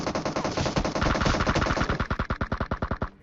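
Rapid automatic gunfire from PUBG at Georgopol, a loud sustained burst of evenly spaced shots that slows slightly toward the end, close and without speech.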